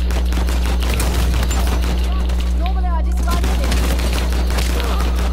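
Rapid gunfire in Uncharted 4 multiplayer, dense bursts of close automatic shots over a constant electrical hum, with a voice briefly audible in the mix.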